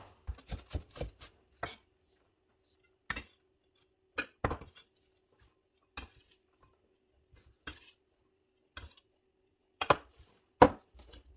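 Onions chopped with a knife on a cutting board: a quick burst of sharp, close thuds, then single cuts spaced out by pauses, with no talking.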